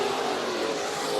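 Race cars roar in a heat race at Bakersfield Speedway, a steady dense engine din heard from a distance without any clear pass-by.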